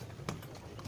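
Horse hooves clip-clop from a horse-drawn cart on the way to a small farm, a few close, irregular hoof strikes over a steady low rumble of movement.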